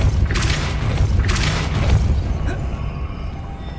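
The Depulso spell is cast in Hogwarts Legacy, a deep booming blast followed by a rumbling, shimmering tail that fades out, loud and close with no voice over it.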